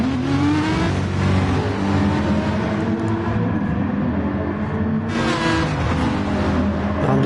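Race car engines roar and rev at the start of a race in a PS4 racing game, a loud sustained engine drone that rises and surges again with a sharp burst of revs toward the end.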